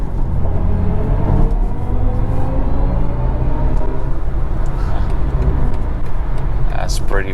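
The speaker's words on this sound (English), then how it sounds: "you want to have a listen to this engine sound again, well, the fake sound, then let's do it" Synthetic engine sound of a 2023 BMW i4 eDrive35 electric car on a night drive, a steady loud droning hum with rising tonal sweeps under road rumble, continuous throughout.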